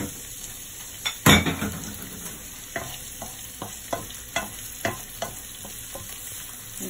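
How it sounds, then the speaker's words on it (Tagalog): Onion frying in a hot pan, sizzling steadily while a utensil stirs and scrapes with scattered clinks; close, with no talking. "Ngayon, ilagyan natin yung sibuyas."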